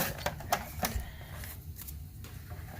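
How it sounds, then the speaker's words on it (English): A junk journal card base has its edge cut off, producing a few sharp, close clicks and snips followed by a soft, quiet scraping of paper, without talk. "Yes, I can cut this edge off."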